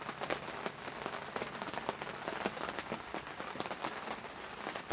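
Rain falls steadily at a carp-fishing spot near Tauragė, a faint, even patter of drops on surfaces with scattered louder taps, no voices.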